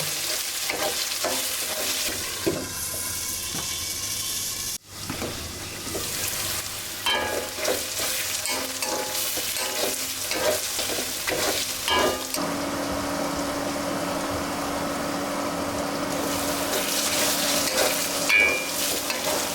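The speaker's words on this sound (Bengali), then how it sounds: "নইটি দিয়ে সুন্দর করে কষিয়ে নিব" Spiced food sizzles and fries in a hot pan while a spoon repeatedly stirs and scrapes through it, a close, continuous crackle with rhythmic scraping and no talking.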